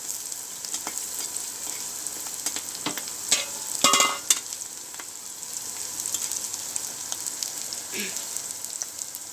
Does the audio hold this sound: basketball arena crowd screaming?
no